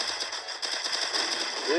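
Rapid bursts of video game gunfire crackle in quick succession, loud and dense, with a voice briefly audible underneath.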